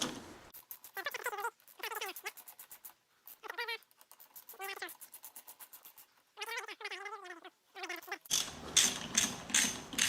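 A ratchet works the handlebar clamp bolts on a Can Am Spyder F3 during a drag bar swap, producing bursts of fast, close, buzzing pawl clicks in several separate strokes, followed by louder clattering tool noise at the end.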